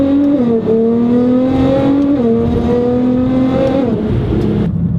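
A modified Nissan GT-R with custom exhaust, intake, tune and E85 flex-fuel kit, making over 600 wheel horsepower, roars close and very loud, holding a steady drone with a few stepped shifts in pitch.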